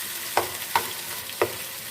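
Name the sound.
chicken frying with onions in a pan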